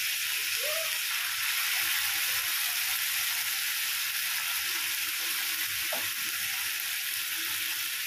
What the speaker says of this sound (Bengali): এবারে এই আদা কাঁচা লঙ্কা ভালোভাবে ভেজে নিচ্ছি।